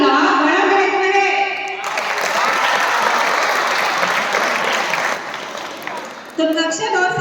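A school audience claps at an inter-house poetry recitation contest, a burst of applause rising after a speaker's voice and fading as talking resumes.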